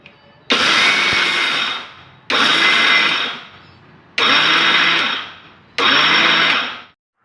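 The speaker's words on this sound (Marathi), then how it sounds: "हे बघा अशा पद्धतीने मिक्सर चालू बंद चालू बंद करत ही बाजरीची भरड आपल्याला छान अशी तयार करून घ्यायची आहे" A kitchen mixer grinder coarsely grinding soaked bajra (pearl millet), switched on and off in four loud whirring bursts of about one to one and a half seconds each, with short pauses between.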